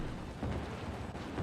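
A thunderstorm in the city-building game Cities: Skylines: steady heavy rain hiss with a low rumbling thunder roll underneath, dense and continuous throughout.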